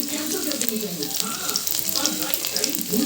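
Garlic sizzles and crackles steadily in hot oil in a kadhai while Mix Saag is being cooked, a close, continuous frying hiss with a few stirring sounds.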